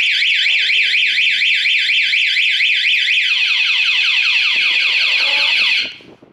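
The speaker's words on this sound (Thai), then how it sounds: "กดล็อก1ครั้งระบบแรกนะครับโดนรถจะมีเสียง" Anti-theft alarm on a Honda MSX motorcycle, a loud electronic siren rapidly warbling up and down, then switching to a falling sweep pattern before cutting off abruptly near the end.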